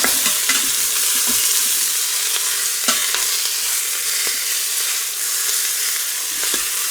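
Beef chunks sizzle and fry steadily in hot oil for a stew while being stirred, with scattered scraping clicks of the utensil against the pan over a continuous bright hiss; no talk.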